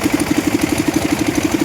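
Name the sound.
concrete mixer engine running at a construction site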